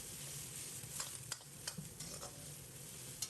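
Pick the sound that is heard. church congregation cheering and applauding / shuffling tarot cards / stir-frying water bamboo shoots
stir-frying water bamboo shoots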